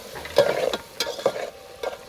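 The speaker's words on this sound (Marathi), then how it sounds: "सगळे मसाले घेतले परतून" Spices sauté and sizzle in a pan while a spoon stirs them in short scraping strokes, a soft steady frying hiss underneath, close by, with no talking.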